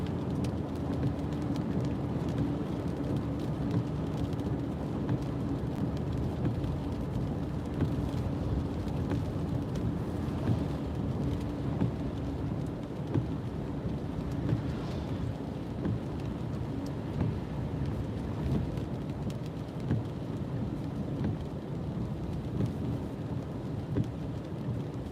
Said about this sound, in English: We'll see what happens with all this rain that keeps falling.